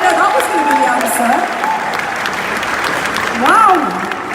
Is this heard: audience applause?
yes